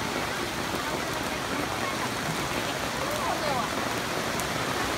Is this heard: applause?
no